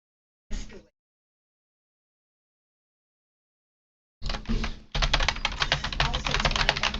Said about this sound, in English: did you hear me typing just then?